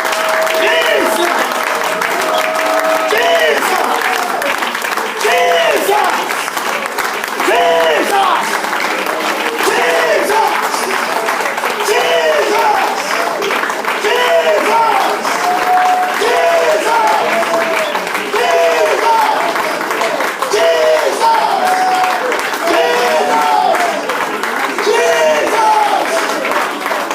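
Congregation at a worship service applauding and cheering to acclaim Jesus, a steady dense wash of clapping mixed with shouts and voices that continues loudly throughout.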